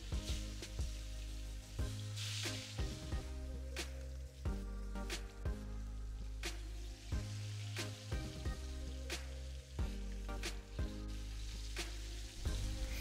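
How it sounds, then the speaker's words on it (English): Beef for biriyani searing in a pan over medium-high heat, a steady crackling sizzle punctuated by sharp pops and spits at irregular intervals, close and moderately loud, with no voices. "searing must occur on a medium-high heat"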